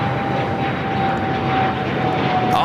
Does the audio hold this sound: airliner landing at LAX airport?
yes